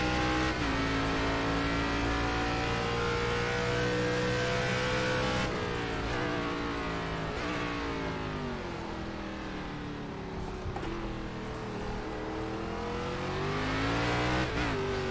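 ARCA Menards race car engine in iRacing on the Charlotte Roval road course, loud and close, revving up through gears with pitch climbs, a brief lift mid-way, then building again, no talking.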